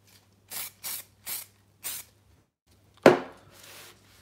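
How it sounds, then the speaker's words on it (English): Fixative spray misted over a pastel drawing of a car sketch: four short aerosol bursts in a row, a pause, then a louder sharp burst fading into a longer hiss, close and alone. "now spray fix."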